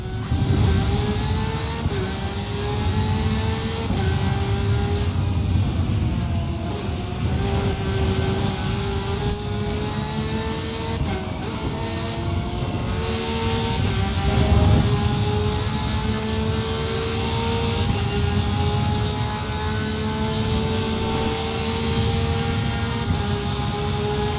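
A race car engine held at full throttle in the Assetto Corsa racing game, droning loud and steady with rising harmonic pitch sweeps through gear changes, continuous for the whole stretch with no talk.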